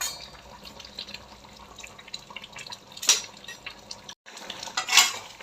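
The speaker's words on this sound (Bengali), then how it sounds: "এইবারে নাড়াচাড়া করে মিশিয়ে নিচ্ছি।" A utensil stirs and mixes chicken kasundi with whole cumin, peppercorns and boiled potatoes in a pan, giving soft scraping and a few sharp metallic clinks against the pan.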